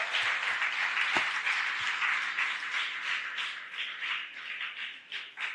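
An audience at a Ramayana talk applauds in a thick, steady patter of many hands that gradually thins and softens toward the end, with a few sharper individual claps near the start.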